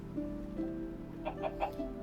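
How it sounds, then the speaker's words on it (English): A Minecraft chicken clucks in a quick run of four or five short, bright clucks near the end, over steady game background music with low tones. "This chicken is pooping all over my house."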